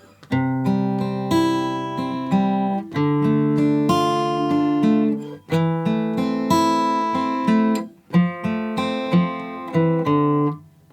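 Clean fingerstyle guitar picks out a melodic song intro of ringing chords in steady phrases, close and clear, with brief pauses between sections and no voices.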